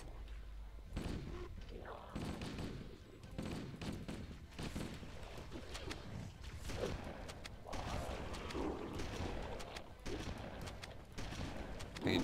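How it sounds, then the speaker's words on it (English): Gunfire from weapons in the video game Halo Combat Evolved, repeated soft shots and thuds at moderate level, mixed with game noise and faint talking. "We can shoot weapons now."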